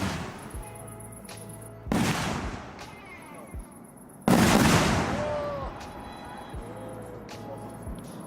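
Several sharp, loud bursts of 38 mm calibre firework battery shots, with big booming blasts around two and four seconds, each followed by crackling decay, over faint background murmur.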